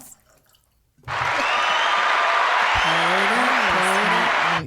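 Alkaline water pours steadily into a glass, a bright continuous splashing stream that starts suddenly after a quiet moment and runs to the end with gurgling shifts in pitch.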